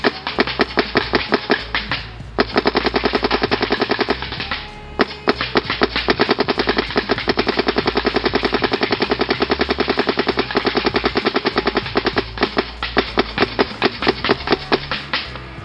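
A Planet Eclipse GEO 2.1 paintball marker with a Deadly Winds barrel fires long, rapid, loud bursts of sharp pops close by, with two short pauses between strings of shots.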